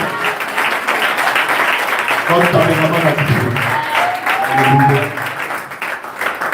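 A church congregation applauds steadily throughout, a dense wash of clapping with voices and singing rising in the middle and fading toward the end.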